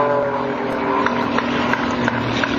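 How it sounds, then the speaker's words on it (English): A Patty Wagstaff aerobatic propeller airplane performs at the 2007 AirPower Over Hampton Roads airshow, its engine droning loud and steady with small surges as it tumbles on a vertical line. "Now she tumbles the airplane on the vertical up line."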